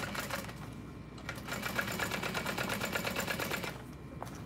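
A sewing machine stitches a fabric messenger bag with a steady, rapid mechanical chatter held close and fairly even for several seconds, tapering at the end.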